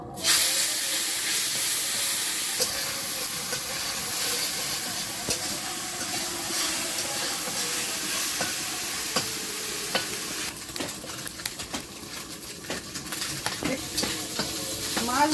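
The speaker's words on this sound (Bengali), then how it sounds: "মাছটা একটু হালকা করে ভাজবো" Fish frying lightly in hot oil in a kadai gives a steady, close sizzle and hiss that runs throughout, with occasional sharper crackles and spits.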